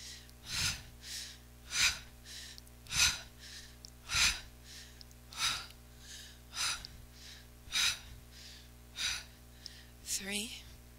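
Forceful rhythmic exhalations during a yoga kriya, about a dozen sharp breaths through the nose and mouth at a steady pace, close and fairly loud.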